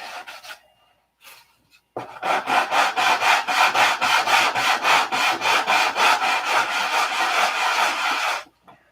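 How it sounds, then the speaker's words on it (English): Wood sanded by hand with rapid, even back-and-forth strokes, about twenty in a row, loud and close after a brief quiet pause, with no voices. "And I don't want to sand forever on that."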